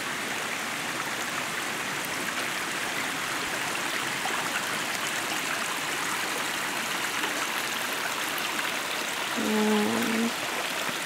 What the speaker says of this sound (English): There's a stream along the side of the trail.